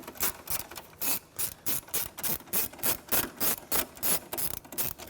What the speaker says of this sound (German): dazu müssen wir jetzt da unten ein paar Schrauben lösen